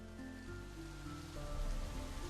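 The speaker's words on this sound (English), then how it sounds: "Listen to the rain." Rain falling in a video game, a soft steady patter on surfaces with a faint tonal backdrop, quiet and continuous, without voices.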